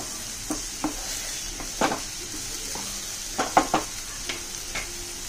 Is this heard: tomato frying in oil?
yes